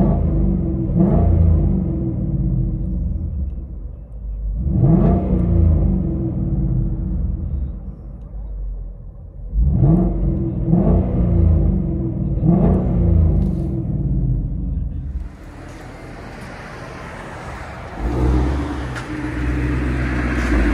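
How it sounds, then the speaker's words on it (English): 2019 Ford Mustang GT 5.0L V8 with a Corsa catback exhaust, heard from inside the cabin: a deep rumbling idle broken by several sharp revving pulls that swell and fade, then a smoother steady drone as it drives off. "Ford Mustang Corsa Extreme Double Helix X-Pipe System Catback. Here's what it sounds like"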